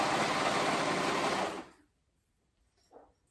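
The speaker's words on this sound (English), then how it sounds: "I'm pulling at it and just sewing at the edge of my elastic" A sewing machine runs fast and steady while top-stitching elastic onto the edge of leggings fabric. The loud whirring stops abruptly partway through, leaving near-silence and one soft knock.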